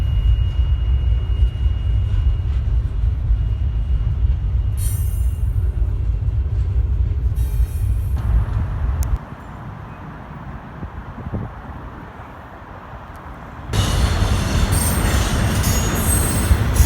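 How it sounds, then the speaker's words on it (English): An inbound BNSF freight train rumbles past close by in the Sacramento Delta with clattering wheels and high metallic squeals, the roar dropping midway before swelling again with hissing screeches. "And now we've got an inbound BNSF train blocking me."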